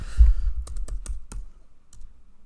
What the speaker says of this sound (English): So I'll just type these things in the slide.